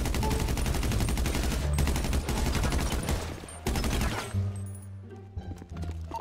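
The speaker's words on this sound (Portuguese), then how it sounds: "Muito tiro mesmo." Rapid gunfire in a zombie-survival GTA roleplay game, dense bursts of automatic and repeated shots that thin out into scattered single cracks toward the end.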